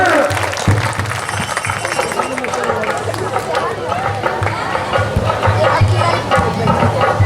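An audience at a gathering applauds with dense, sustained clapping and crowd noise, loud and close, with a voice speaking over it.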